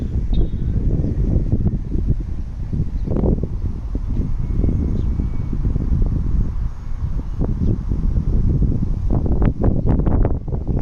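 Wind buffets the microphone outdoors as a Radiolink D460 drone flies, giving continuous rumbling gusts and rough low blustering throughout.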